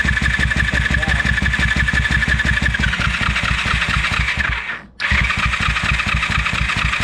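A Daytona Anima FE motorcycle engine turns over and runs with a steady, dense rapid chug throughout, loud and close, briefly dipping and cutting out near the end before picking straight back up.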